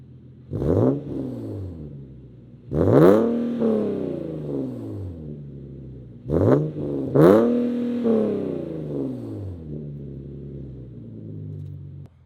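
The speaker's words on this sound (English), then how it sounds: "Here's how loud my car sounds" A car with an aftermarket catback exhaust and test pipes revs hard twice, each burst roaring up then falling back into a deep, rumbling idle, loud and close with a throaty exhaust.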